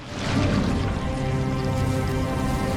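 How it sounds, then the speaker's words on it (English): The flood-infested walls of High Charity in the video game Halo 3 churn and bubble with a thick, continuous wet gurgling, dense and moderately loud, over a low murmuring rumble. "you can hear the walls churning and bubbling."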